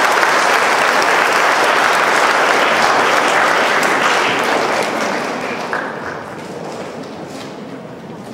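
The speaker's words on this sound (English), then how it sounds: "Let's give another round of applause for this." A large audience at a lecture on Asian student leadership gives a loud, dense round of applause, steady and close for several seconds before slowly thinning toward the end.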